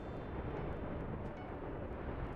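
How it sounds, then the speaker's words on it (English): A deep, sustained rumbling blast roars from an explosion in Hypixel SkyBlock, loud and dense throughout with no voice over it. "Explosion."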